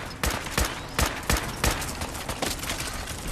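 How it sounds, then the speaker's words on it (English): Assault rifle fire in a video game, loud rapid shots in bursts at a steady rhythm of roughly three per second, close and dominant with no talk. "I'm shooting bullets on the floor."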